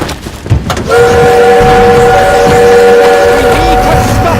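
A steam-era train in Call of Duty WWII rumbles loudly with a sustained whistle tone, heavy low rolling noise and scattered battle sounds, and a voice shouts briefly at the start.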